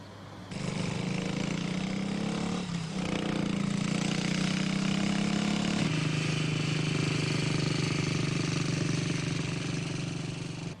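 A British motorcycle from 1965 accelerates hard across a road crossing, its engine loud and close with a steady rough drone that rises in pitch and shifts up a gear midway.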